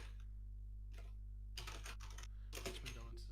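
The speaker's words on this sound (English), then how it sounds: "Oh, I'm just typing normally." Rapid bursts of keystrokes on a computer keyboard, clattering close to the microphone in two dense clusters over a steady low electrical hum, with no talking.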